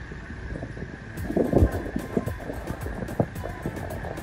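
A motor boat running on the Nile at Luxor, its steady engine and water rush blending with wind buffeting the microphone, with a few louder surges and splashes midway and no talking.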